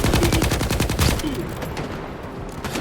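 Rapid bursts of machine-gun fire from the 'Nenazhera' gun in S.T.A.L.K.E.R. 2, loud and close for about a second, then thinning into scattered shots and lingering echo.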